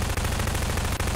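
Rapid sustained submachine gun fire in a video game, a dense continuous rattle of shots heard loud and close with no talk.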